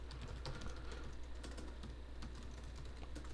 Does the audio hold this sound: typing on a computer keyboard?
yes